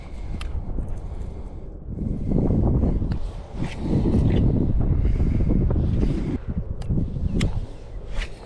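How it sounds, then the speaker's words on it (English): Gusty wind buffets the microphone outdoors near water on a truck camping and fishing trip, rising into loud, rumbling surges that ease and swell again without a break, with no talking. "It's kind of windy today."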